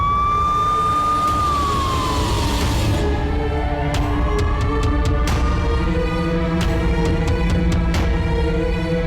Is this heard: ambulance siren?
yes